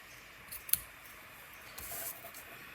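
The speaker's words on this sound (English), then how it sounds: "I'll get my scissors and trim off my ribbon." Scissors trimming ribbon, a few quiet close-up snips with a sharp click, heard alone in a calm room.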